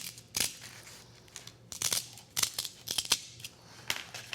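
Scissors snip paper craft pieces for a jeweled crown in a series of crisp, close cuts, some single and some in quick pairs, separated by short quiet gaps.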